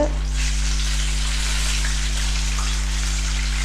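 Chicken pieces deep frying in hot oil for KFC-style crispy fried chicken give off a steady, dense sizzle and crackle. It stays close, constant and fairly loud throughout, with no talking.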